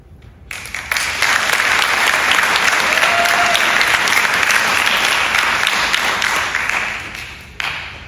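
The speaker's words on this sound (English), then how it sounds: "Let's give her one more round of applause as she walks off the stage" An auditorium crowd at a high school fine arts signing day bursts into applause for a student, a sudden loud, sustained wash of clapping that holds steady, then drops off abruptly near the end with a brief final flurry.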